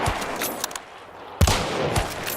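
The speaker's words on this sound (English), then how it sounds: "I'm being shot at" Gunfire in a multiplayer hunting shooter game, a few sharp close shots and short bursts with an echoing tail, a loud blast near the middle, separated by quieter gaps.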